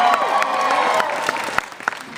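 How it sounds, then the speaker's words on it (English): A convention-hall audience applauds at the WonderCon 2012 Fringe panel, sustained dense clapping with crowd murmur and scattered cheers, loud and even before thinning slightly toward the end. "Quick show of applause."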